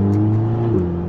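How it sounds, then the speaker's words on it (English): Audi TT Mk2 with S tronic gearbox accelerating on a road test drive, a loud, steady engine drone with strong harmonic tones that shift slightly in pitch as revs change, heard from inside the car with no talking. "Okay, we are on the test drive, let's put it on manual and let's see."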